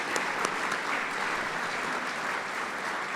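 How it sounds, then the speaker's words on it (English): A room full of people applauds a charity Chocolate Sunday event, a steady dense wash of many hands clapping loudly and evenly with no voices on top. "we want to give them one more round of applause to recognize"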